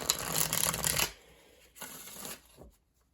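Tarot and oracle cards shuffled by hand: a brisk riffle of papery flutter for about a second, a pause, then a shorter second burst and a faint final tap, close and clear with no talk.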